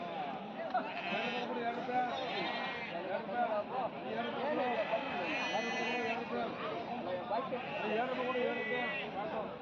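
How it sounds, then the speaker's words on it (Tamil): A Jamunapari goat with her kid bleats repeatedly at a goat sale, the calls fairly near and layered over steady crowd chatter and someone talking. "ஒரு ஜமுனாபுரி ஆடு குட்டியோடு வந்திருக்கு"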